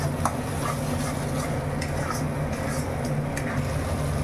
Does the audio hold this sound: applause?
no